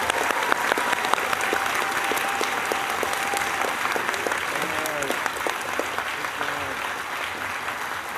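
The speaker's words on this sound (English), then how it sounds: "let's give a round of applause for the class of" Sustained audience applause for an incoming medical school class at a white coat ceremony, dense even clapping throughout with faint voices underneath.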